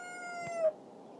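A single short, tonal squawk from a chicken in a snowy run, faint and brief against quiet background.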